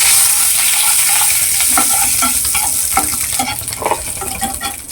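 Whole cumin seeds and a cut bay leaf hit hot mustard oil in a kadai, a loud, close, steady sizzle with crackling pops that settles slightly toward the end.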